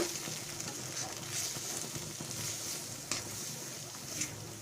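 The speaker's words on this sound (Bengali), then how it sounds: "একদম লো ফ্লেমে আস্তে আস্তে আমি মশলাটাকে কষে নেব যাতে নিচে ধরে না যায়" Ground coriander and cumin paste cooking slowly in oil over a low flame, a faint, even crackling sizzle with scattered soft pops and occasional light stirring taps, no talking.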